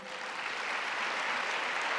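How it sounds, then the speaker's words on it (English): Dense, steady applause from an audience at the Connecticut Women's Hall of Fame induction ceremony, honoring the women inductees and holding an even level throughout with no talk over it. "let's have one final round of applause for the group of remarkable women who have been honored at this induction ceremony"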